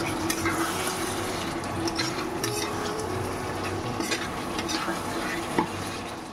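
A small batch of chicken being stirred in a pot as it cooks, with a steady close sizzle and continuous scraping and clinking of a spoon against the metal, fairly loud and with no talking.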